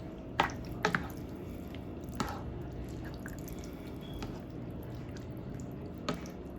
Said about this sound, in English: That beef broth will actually simmer down.